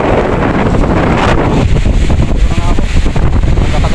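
Strong wind at sea buffets the microphone in loud, continuous roaring gusts, with water and wave noise mixed underneath and a voice briefly audible.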